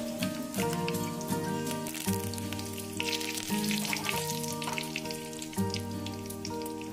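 Mustard seeds and curry leaves crackle and sizzle in hot sunflower oil, a steady close frying hiss with dense popping spatters running throughout.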